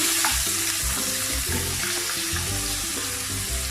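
About half a cup of shrimp fries in a pan over medium heat, a continuous close hiss broken by repeated scraping and knocking as the pieces are stirred.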